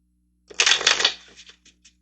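Tarot-style playing cards are riffled close by in a single quick shuffle lasting about a second, followed by a few light taps as the deck settles.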